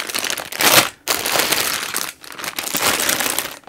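Loud, close crinkling of factory-sealed plastic bags from Reobrix building-brick sets, handled in several bursts with two short pauses, no talking.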